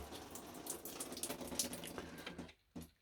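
Water runs from a tap at a country-house hot water setup right after the heater line is switched on, a steady splashing flow that cuts off abruptly near the end.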